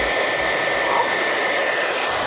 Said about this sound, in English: Hair dryer's not gonna work, I'm telling